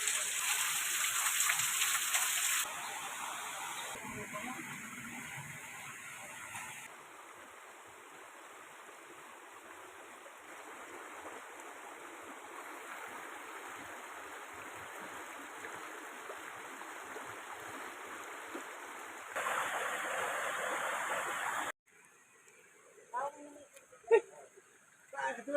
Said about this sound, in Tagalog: Limpyong tubig.